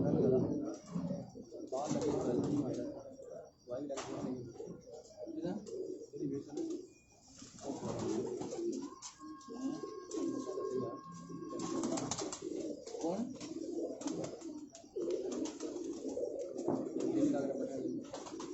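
Pigeons in a loft coo in repeated soft, throaty bursts, close and steady, over someone talking throughout.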